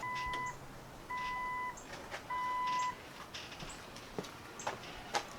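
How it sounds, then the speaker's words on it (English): Amber LED turn signal conversion in smoked tail light housings on an XJ with the ignition on, giving bursts of steady electronic beeping at regular intervals, a clean tone repeating about every second, with faint ticks and clicks between. "I've got to turn the ignition on, see if the turn signal works"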